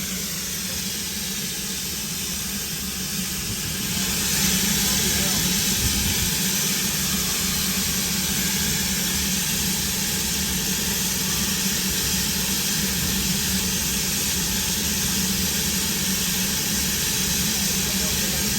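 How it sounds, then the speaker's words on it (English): A steam locomotive on a heritage railway lets off a continuous loud hiss of steam that swells a few seconds in and holds steady. Voices are faint in the background. "Lovely to see steam again."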